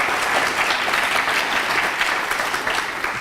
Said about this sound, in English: I think we should give her an applause for that.